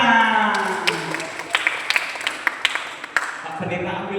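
Applause from a church congregation at a Christmas gathering, scattered sharp claps rising over a murmuring crowd and voices, lasting a few seconds before fading as talk resumes.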